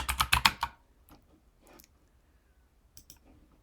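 Typing on a computer keyboard while writing Go code for a gRPC client, starting with a dense, loud burst of rapid keystrokes, then a few sparse, softer clicks and one last short flurry, with no talking.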